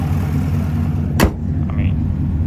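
Camaro rumbling low and steady nearby, with one sharp knock partway through and a brief faint squeak after.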